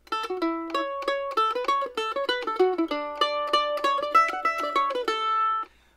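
A mandolin plays a quick, bright fiddle-tune melody, Bill Cheatham, notes tumbling in steady rhythm, close and clear, with no voices.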